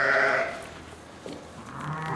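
Newborn triplet lambs, a few days early, bleating close by, with one loud cry at the start and softer bleats after it.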